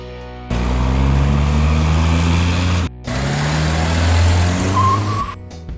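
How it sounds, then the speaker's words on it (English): Mid-size car engine running steadily and close in two long stretches split by a brief silence, a strong low hum with rising revs, then fading out near the end. "Mid-size car."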